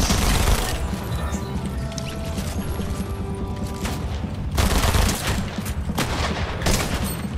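Rapid gunfire crackles through a Fortnite match, dense bursts of shots and automatic fire overlapping with booms and clatter, loud and continuous with louder volleys near the end.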